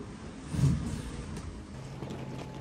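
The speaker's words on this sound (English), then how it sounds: "We have to use the engine as the wind went back to 3 knots." The engine of a sailing boat on the Indian Ocean runs at low speed, a faint steady drone with a small surge early on and soft wind noise, with no voices.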